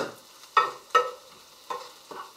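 Sugar in a heating pan being stirred constantly, four or five distinct scraping strokes of a utensil against the pan, close and clear with no voices.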